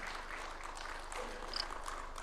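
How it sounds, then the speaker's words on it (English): Audience applause welcoming the President at a live event, a steady, moderately faint wash of clapping sustained throughout with no talk over it. "Why don't we welcome him with a hearty and warm clap as he comes to address us"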